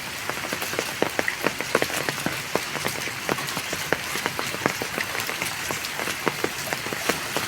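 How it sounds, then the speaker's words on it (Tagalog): Steady rain from a multi-day downpour pattering on surfaces in a residential subdivision, a dense continuous hiss with scattered sharper drops throughout, fairly close and with no talking. "Ulan pa rin yan."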